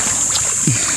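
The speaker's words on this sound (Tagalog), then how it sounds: "Motor." A boat motor runs steadily at a fishing spot on the water, a continuous hum with a brief low thump partway through.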